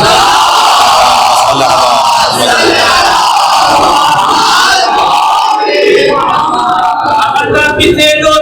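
A large crowd chants salawat loudly in unison, a dense roaring wall of voices sustained throughout, close and overwhelming.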